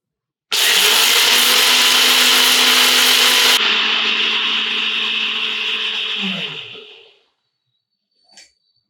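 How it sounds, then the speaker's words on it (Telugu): A mixer grinder whirs loud and steady as it grinds roasted masala into a paste, its pitch shifting partway through, then winding down and stopping, followed by a brief clink. "ముందుగల్లా వేయించుకున్న మసాలాను మిక్సీలో వేసి"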